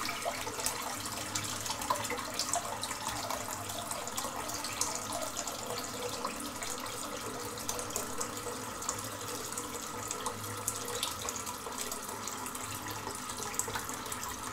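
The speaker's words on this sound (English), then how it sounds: "Right, just wet my hand a little bit." A bathroom tap runs steadily while a hand is wetted before a wet shave, a constant, even water hiss with no pauses, moderately close and alone.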